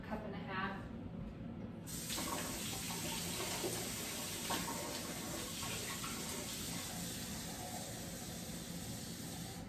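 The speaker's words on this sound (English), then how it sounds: "I'm gonna go to my sink and get another cup, cup and a half." Water runs steadily from a kitchen sink tap into a measuring cup as bread dough is being mixed, a continuous close hiss and splash that swells after a brief quieter start and carries on throughout.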